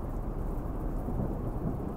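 Thunder rumbles continuously with steady heavy rain during a summer-camp storm, a dense, loud low roar throughout with no speech.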